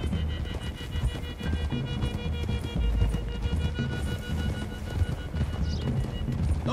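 Horses gallop with steady hoofbeats in Red Dead Redemption 2, continuous and close over a low, busy game backdrop with a brief whinny near the end.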